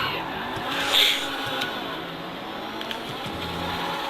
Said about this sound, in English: It actually double clutches decent